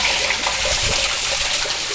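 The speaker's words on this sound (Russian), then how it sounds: "Это родник Майкудука." Water from the Maikuduk spring in the 18th microdistrict of Karaganda flows in a steady, continuous broadband rush with a faint trickling texture, close and alone, with no talking.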